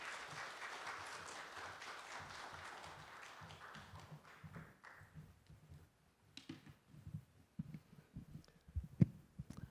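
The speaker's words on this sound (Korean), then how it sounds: "박수로 환영하시겠습니다." A church congregation at a Sunday service claps in welcome for a missionary, a fairly soft wash of applause that fades after a few seconds into scattered, irregular taps and a few louder isolated claps.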